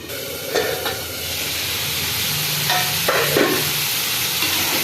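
A Bengali curry of eggplant, potato and khoira fish bori cooks down in a pan with a dense steady sizzle and hiss, and a few stirring scrapes and knocks come through.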